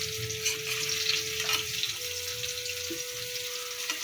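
Potato pieces fry in oil in a pan at home, a soft steady sizzle throughout with faint clinks and a thin running-water tone behind it, and no voices.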